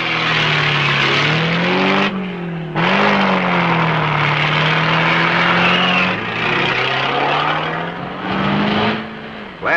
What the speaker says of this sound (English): Last of 5 classes to take off are the European stocks